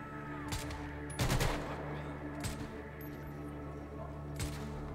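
Gunfire in GTA V breaks out in a few separate bursts, one heavier volley in the middle and lighter shots around it, over a steady low background hum.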